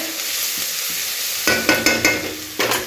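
Chopped onion with plenty of green chillies sizzles softly at first. Then a spatula stir-frying them in the pan sets off a burst of rhythmic scraping and louder crackle.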